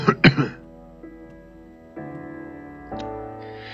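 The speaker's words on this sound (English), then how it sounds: "How long have you had that cough?" A man coughs in two quick, close bursts at the start, deep inside a damp cellar cavern with nitre-crusted walls in a dramatized production of The Cask of Amontillado; sustained, quiet musical tones follow alone.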